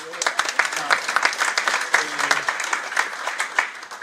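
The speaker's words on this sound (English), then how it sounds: "I thought we were going to clap hands for it." A crowd at a correctional services sports awards ceremony claps in a scattered, uneven patter of moderate loudness, with voices talking underneath.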